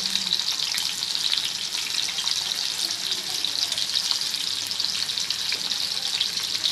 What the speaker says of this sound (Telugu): నూనెలో వేపేసుకోవాలి. బ్రౌన్ కలర్ వచ్చేంత వరకు.